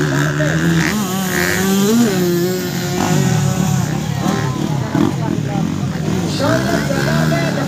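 Motocross motorcycles racing in a ladies' open category start at a Philippine motocross series event, a loud steady engine roar with revving pitch changes running throughout, heard beneath continuous announcer commentary over a public address system.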